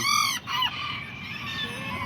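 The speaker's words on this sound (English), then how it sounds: "A little rooster right there. A little chicken." Chickens clucking and a rooster's harmonic crowing call up close, followed by lower fowl murmurs and clucks continuing.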